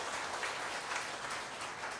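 An audience gathered for a Buddhist Dharma lecture claps in a steady, fairly faint wash of applause that sounds distant and continuous, with no speech over it.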